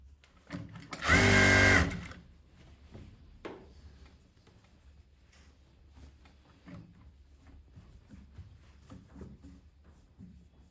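A sewing machine stitches fabric in a short loud burst of rapid whirring, followed by faint clicks and handling noises in a quiet room.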